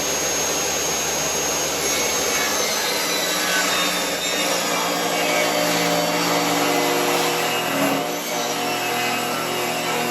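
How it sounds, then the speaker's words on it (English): A rounded edge on the bottom of a 2x4 for a handrail is sanded smooth with a power sander, giving a loud, continuous, close whirring rasp that holds steady throughout. "The bottom of the 2x4 has already got a little rounded edge, so we'll just sand that out and make sure it's nice and smooth"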